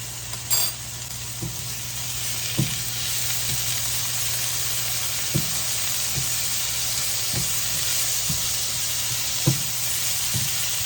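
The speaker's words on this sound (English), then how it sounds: "Going to cook that about 30 seconds until you can really smell that garlic and your spinach is all wilted." Frozen spinach and garlic cook in a pan with a steady, close sizzle, broken every second or so by soft knocks and scrapes of a utensil stirring, with no talking.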